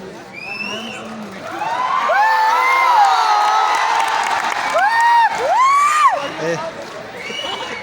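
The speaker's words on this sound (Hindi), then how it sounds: "जोरदार तालियों से आमंत्रण" A crowded hall audience at an education event in Patna breaks into loud applause mixed with cheering and whoops, a dense sustained roar with a few shouted voices rising over the clapping for several seconds.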